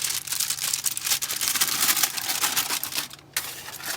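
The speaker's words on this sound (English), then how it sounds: "This has been in there for half an hour, so I'm going to go ahead and carefully take the foil off." Aluminum foil peeled off a baked vegan vegetable lasagna, a continuous close crinkling and tearing rustle that briefly drops out near the end.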